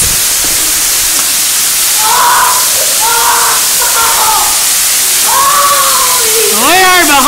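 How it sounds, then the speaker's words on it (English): A huge waterfall roars at very close range from behind the falling water, a loud, constant hissing rush, while excited voices shout over it. "We are behind the waterfall right now!"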